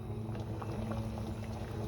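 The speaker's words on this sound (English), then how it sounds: "it's been about 10 minutes since I put this on the stove, and it started boiling" Black glutinous rice porridge boils in a pot on the stove, a steady low bubbling and simmering rumble with soft pops throughout, close and continuous with no talk.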